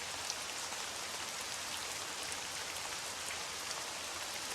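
Steady rainfall in the World War II Pacific strategy game Strategic Mind: The Pacific, a soft, even hiss of drops that continues unbroken and fairly quiet with no voices over it.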